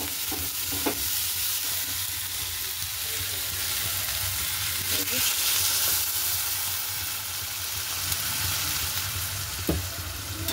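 Potatoes and tomato frying in a pan make a steady bright sizzle that runs throughout, with a few faint utensil taps; no one speaks.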